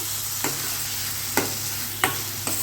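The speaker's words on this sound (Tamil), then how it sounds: "தக்காளி நல்லா மசிகிற அளவுக்கு வதக்கி விட்டுக்கலாம்" Steady sizzling of tomatoes sautéing in a pan, with four soft scraping taps of a spatula spaced irregularly across the sizzle.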